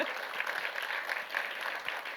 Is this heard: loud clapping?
yes